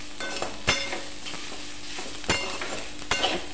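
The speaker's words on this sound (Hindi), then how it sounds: "अच्छे से भून रहा है आप देख सकते हो।" Soybean chunks seasoned with Maggi masala roast in a pan, a steady soft sizzle broken by a few sharp scrapes and clinks of the stirring spoon against the pan.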